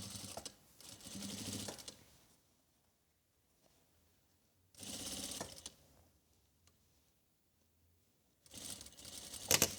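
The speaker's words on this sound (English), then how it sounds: "So we're just sewing on that very edge so it has a hold." Three short bursts of a sewing machine stitching along the edge of an old blazer being turned into a vest, each a rapid mechanical whir lasting one to two seconds, with quiet pauses between.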